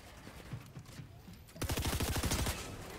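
SMG gunfire in Fortnite: after a quieter stretch of scattered shots, a loud, rapid automatic burst fires at a steady, fast rhythm for about a second before easing off.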